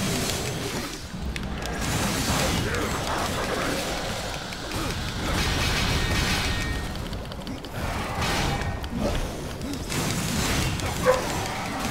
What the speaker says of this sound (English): Woof goes the dog.